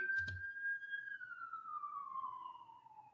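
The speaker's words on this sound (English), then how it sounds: "The dang on sirens, child." A single siren wails faintly in the distance, a steady tone slowly sliding lower, after a brief knock near the start.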